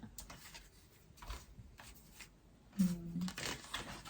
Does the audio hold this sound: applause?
no